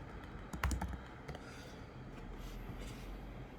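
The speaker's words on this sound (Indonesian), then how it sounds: "tinggal diketik aja responsif" Quick bursts of typing on a computer keyboard, a short cluster of clicks near the start followed by sparse, faint taps over a quiet room hum.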